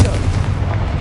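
A blasting Confringo spell in Hogwarts Legacy sounds as a short, dense, rumbling explosion, loud and close, with low booming texture across its whole brief span.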